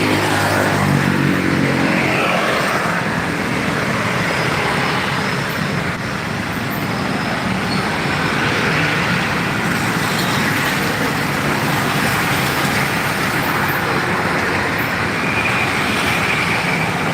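Road traffic in the Macopa area of Maros town, Indonesia, at a spot prone to jams: a steady, loud, continuous rumble and hiss of passing cars, buses and trucks, with no talking.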